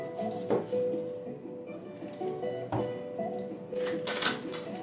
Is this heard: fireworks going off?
no